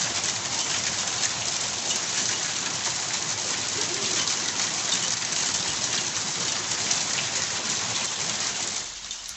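Heavy rain in Nova Palma, Rio Grande do Sul, pouring steadily on surfaces as a dense, continuous hiss, with a pigeon faintly cooing in the background.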